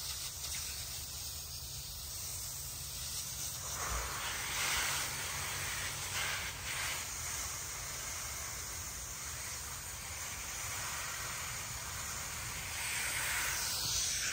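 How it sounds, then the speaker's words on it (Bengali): A steady hiss of spraying water runs continuously as a home vegetable garden gets watered at dusk. The sound stays even and moderately close throughout. "এখনো জল দিচ্ছি বন্ধুরা আমি"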